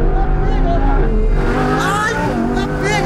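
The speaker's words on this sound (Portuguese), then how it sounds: "O motor V10, olha o som." A powerful Audi R8 V10 engine revs and growls with rising and falling pitch, loud and close, while people talk over it.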